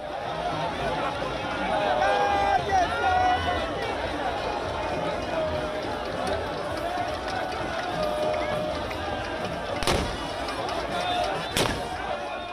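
A crowd chatters and moves about outdoors at the Olojo Festival in Ile-Ife as two sharp ceremonial gunshots crack out near the end, a couple of seconds apart.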